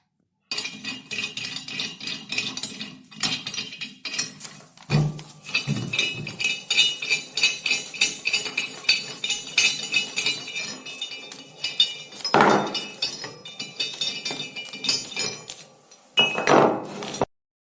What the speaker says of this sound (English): This is another butt weld end cryogenic globe valve, and I am opening body bonnet bolts.